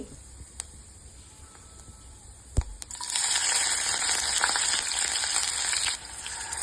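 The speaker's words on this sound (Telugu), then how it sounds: "జీలకర్ర మసాలా దినుసులు వేసుకోవాలి కొంచెం పచ్చిమిర్చి" Cumin, whole spices and green chilli hit hot oil for a chicken curry, bursting into a loud, steady sizzle about halfway in after a quiet start with a single knock.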